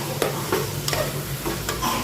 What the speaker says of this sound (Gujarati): તો હવે આપણે રીંગણાને તેલમાં ચડવા દેશું.